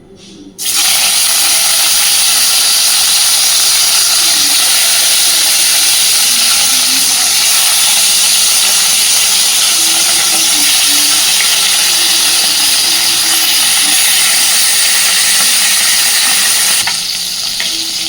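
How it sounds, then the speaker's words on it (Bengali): Fish frying in hot oil in a kradai, a loud, dense, continuous sizzle and hiss that starts abruptly and holds steady for nearly the full length, close up with no voices. "তো এবার তেল সুন্দর গরম হয়ে গেছে, মাছগুলোকে ভেজে নেব।"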